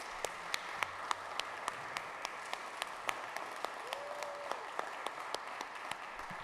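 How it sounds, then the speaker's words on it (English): Scattered hands clap in a Providence City Council meeting chamber to honor standing counselors, with sparse sharp claps at a fairly regular pace over a steady tonal hum in the room. "Counselors, if you could stand up and allow them a round of applause."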